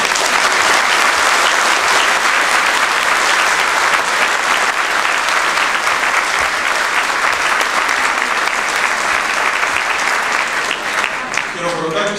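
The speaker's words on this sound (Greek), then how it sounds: "Χειροκροτάτε στην ουσία τον εαυτό σας" A talk audience applauds in a sustained, dense wave of clapping lasting many seconds, loud and close, tapering slightly at the end, with a voice speaking over it.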